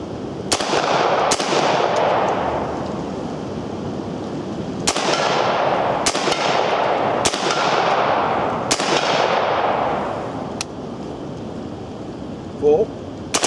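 A UMP-40 fires semi-automatic single shots outdoors, about six sharp, loud reports at uneven intervals, each followed by a long echoing decay, with faint talk in the background.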